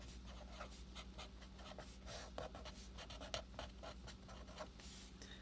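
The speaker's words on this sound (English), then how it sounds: "So I'm going to write my balanced chemical equation." A chemical equation written by hand, with a pen or pencil scratching in short, quiet strokes and taps across paper in an irregular rhythm, faint and close against a low background hum.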